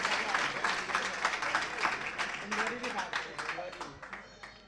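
An audience at a Jain religious discourse gathering claps, a steady crackle of many hands that stays fairly even before tapering slightly, moderately loud and heard alone.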